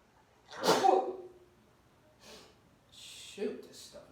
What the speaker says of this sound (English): Shoot, this stuff makes me sneeze.